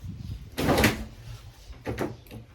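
A door indoors at home bumps shut with a solid thud and a brief rattle, followed moments later by a second, softer knock. Both sound fairly close, with quiet room tone between them.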